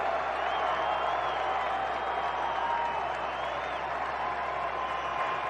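Baseball stadium crowd at a Cleveland versus White Sox game, a steady, distant wash of applause and cheering that holds evenly throughout with no distinct peaks.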